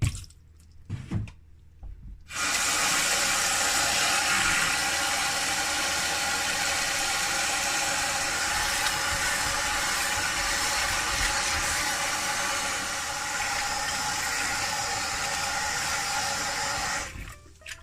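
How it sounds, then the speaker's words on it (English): About ten chicken legs are rinsed under running water in a kitchen sink, a loud, continuous gush of tap water that starts abruptly after a short pause and runs on steadily to an abrupt stop. "I have about 10 chicken legs here in the sink and I'm gonna rinse them off"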